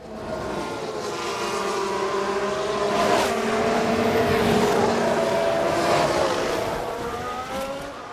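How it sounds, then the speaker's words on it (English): Formula 1 race cars in the F1 Manager 2022 video game scream past at high revs, a continuous layered engine whine that swells and falls as cars go by, with no voices. "Car sounds are passable"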